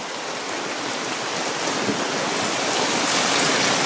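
Water pours in a steady, hissing rush, like a stream, and swells gradually louder over a few seconds. It is close and continuous, with no voices.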